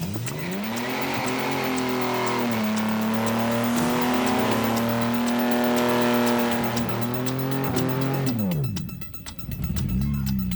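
A car performing a burnout at a young drivers' burnout competition, its engine held at high revs in a loud, sustained droning roar that climbs and wavers, then drops away near the end as the revs fall.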